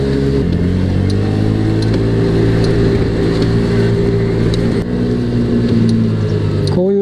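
A Honda Gyro Canopy scooter's engine hums in a steady, loud drone while riding through rain, the pitch holding even with a brief dip near the end.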